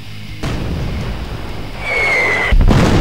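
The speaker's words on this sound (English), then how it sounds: "He's firing the missile." A heavy rumbling blast with a rising whine, then a sharper second boom, as a video-game missile launches and explodes.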